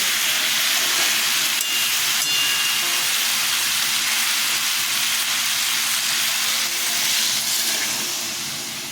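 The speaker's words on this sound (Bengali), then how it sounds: "সবজিটা কষানো হয়ে গেছে দেখুন, আমি এখন জল দিয়ে দেবো।" Water hits a hot pan of sautéed pumpkin-stem vegetables and throws up a loud, steady hiss of steam and sizzle that lasts throughout, tapering off slightly at the end.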